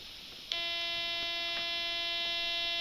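Steady buzzing tone from a crystal oscillator in a Manhattan-style IF crystal filter circuit, starting abruptly after a brief click and holding constant and fairly loud, alone with faint background hiss.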